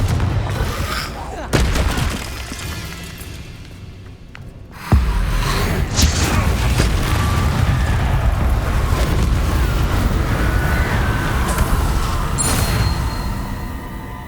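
A Confringo fire spell detonates in Hogwarts Legacy on PS5, a sudden loud boom followed by a sustained roaring rumble of flames and debris.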